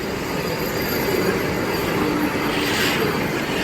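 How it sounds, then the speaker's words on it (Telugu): A 16-coach Vande Bharat Express, Secunderabad to Visakhapatnam, rolls past as a steady, loud rush of wheels on rails, with faint squealing and clatter throughout and no voices. "సికింద్రాబాద్ విశాఖపట్నం వందే భారత్ ఎక్స్ప్రెస్"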